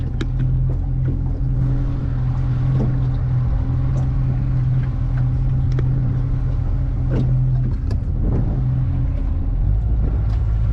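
A Yamaha F50 outboard motor on a 2023 Smokercraft 15 Resorter boat drones loudly and steadily at close range as it is put in gear, with a constant low hum and occasional knocks and water noise.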